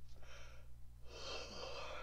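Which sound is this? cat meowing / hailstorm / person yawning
person yawning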